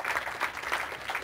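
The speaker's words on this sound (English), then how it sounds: "Let's have a big round of applause for Gary Carrington" Applause for bowler Gary Carrington as he comes up to accept third-place prize money at a televised bowling match, a steady round of clapping in pulsing waves from a studio crowd.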